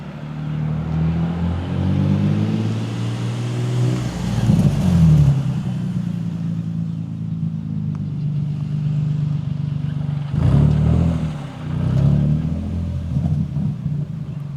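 Nissan 350Z with a suspected exhaust leak spinning a donut in a driveway, its engine rumbling steadily with two sharp revs that surge loudly before settling back.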